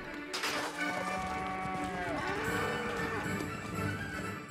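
Cattle moo on an 800-acre Texas cattle ranch, with several drawn-out, low, wavering calls overlapping close by and a fainter bleating cow behind, no talk.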